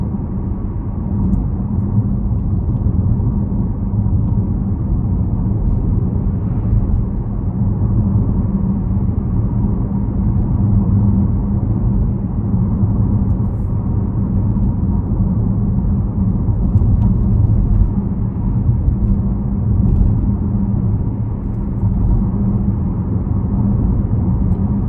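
A 2025 Porsche Panamera 2.9 V6 4 with PDK gearbox on a test drive, heard as a steady, deep cabin drone of engine and road rumble for the whole stretch, with no talking.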